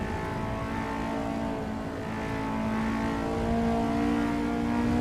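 A Mazda race car in the Assetto Corsa Evo racing game drones with a steady engine tone whose revs climb slowly toward the end.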